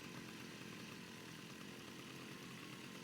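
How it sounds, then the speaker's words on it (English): A chainsaw in the video game Fortnite roars in one continuous, steady buzzing drone that fills the whole moment without pause, fairly faint in level and with no voices. "Oh, I love this chainsaw."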